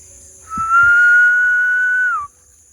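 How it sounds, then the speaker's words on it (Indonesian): A person whistles one steady, sustained note for nearly two seconds in a quiet forest at night, close and clear, with a couple of faint knocks just before it. "Kenapa siul"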